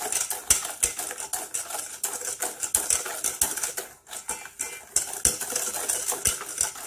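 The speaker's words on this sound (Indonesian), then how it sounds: "kita aduk-aduk seperti ini sampai telurnya menyatu dengan gulanya ya" Eggs whisked with sugar in a mixing bowl by hand, a utensil scraping and clinking against the bowl in quick, steady strokes, close and fairly loud, with a brief pause midway and no voices.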